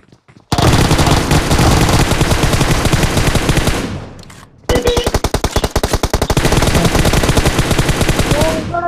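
Sustained automatic gunfire in the PUBG battle royale video game, loud and close, in two long rapid bursts separated by a brief pause, with faint voices underneath.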